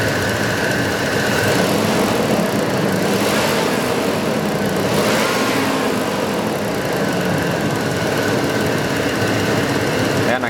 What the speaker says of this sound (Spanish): Voy a acelerar un poquito.